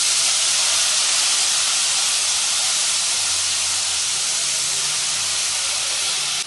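Broad beans fry with onions in a pan, giving a loud, unbroken steamy hiss close by that holds steady from start to finish.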